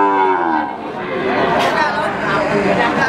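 Cattle moo at a busy livestock market where young Ongole-cross cows are sold, with a low bellow standing out over a crowd of chattering voices and general market noise.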